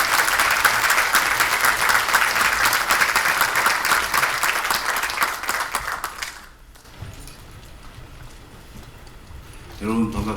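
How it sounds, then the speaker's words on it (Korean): A lecture audience gives loud, sustained applause for a former unification minister's talk. Dense clapping runs for about six seconds, then fades, and a voice briefly starts speaking at the end. "뜨거운 박수 부탁드립니다."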